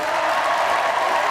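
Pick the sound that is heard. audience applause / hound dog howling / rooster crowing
audience applause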